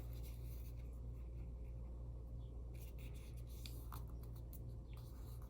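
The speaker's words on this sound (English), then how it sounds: "I'm going to fold this corner again down to that crease" Origami paper for a hopping frog being folded and pressed along a crease: soft, dry rubbing and papery scrapes in short bursts over a steady low hum, quiet and close.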